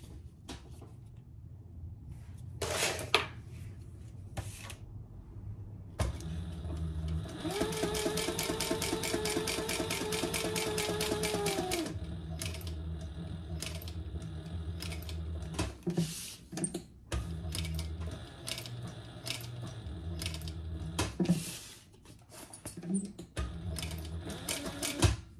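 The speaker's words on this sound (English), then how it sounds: "Now we're going to sew between these two inner lines a box." Sewing machine stitching a box between two lines on a sling bag, a rapid mechanical whirring run of even stitches lasting several seconds, surrounded by quieter handling clicks and pauses.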